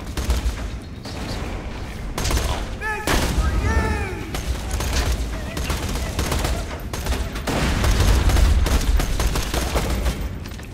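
Enemy gunfire in Borderlands 2 crackles in repeated bursts through dense game audio, loud and steady, with booms and chatter mixed in and a voice talking over parts of it.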